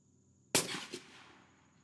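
A single rifle gunshot fires Pendleton custom ammunition, a sharp loud crack followed by a brief echo and a long fading tail outdoors, with no talking.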